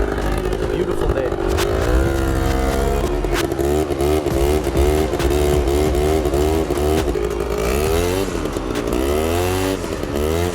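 A quad's engine revs hard and wavers in pitch during a wheelie attempt, a loud, continuous buzzing roar that climbs and dips, with people talking over it.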